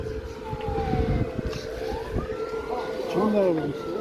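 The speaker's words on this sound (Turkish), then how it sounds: "Ambulans geldi. Şey, itfaiye." Fire engine siren wailing as a fire truck arrives at a burning parked car, its rising and falling tone sustained throughout over street noise, with people talking nearby.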